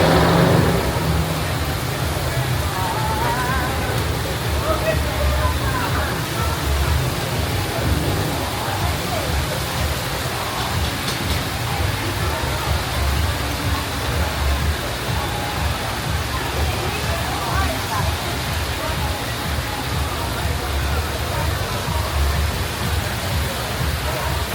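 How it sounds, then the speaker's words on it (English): Heavy monsoon rain pours down in Manila, Philippines, a loud, unbroken broadband hiss that holds steady from start to end. "it's literally pouring with rain"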